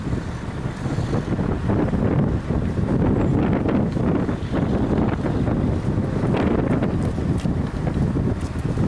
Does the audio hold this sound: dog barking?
no